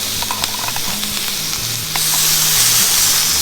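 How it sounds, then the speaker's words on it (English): Bacon sears in a hot pan while a spatula presses it down, giving a loud, continuous sizzle and crackle. Small clicks and scrapes sound early on, and the frying surges louder and hissier partway through. "really push the bacon into that pan, guys, so it gets all of that nice sear on it"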